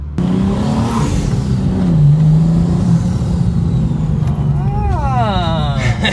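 A tuned 2023 BMW M3 engine pulls hard under acceleration, a loud steady low drone that rises in pitch near the end, with people talking over it inside the car.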